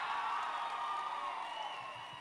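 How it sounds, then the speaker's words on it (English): Faint, distant applause and cheering from an audience at an FFA event keynote, a steady wash of clapping and crowd noise lasting just over two seconds with no single clap standing out. "round of applause for all the sponsors, the chaperones, the ag teachers, FFA advisors"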